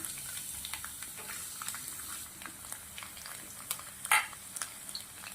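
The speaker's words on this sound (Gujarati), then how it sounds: "ઝીણું સમારેલું લસણ નાખું છું" Finely chopped garlic is dropped into hot oil in a kadai while corn Manchurian is being made. The oil crackles and sizzles steadily, with stirring scrapes and one louder clatter of a utensil partway through.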